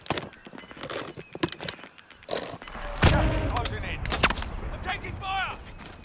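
Gunfire in Call of Duty: Modern Warfare, a dense run of sharp shots and bursts with a heavier volley near the middle, loud and close, mixed with voices talking over the action.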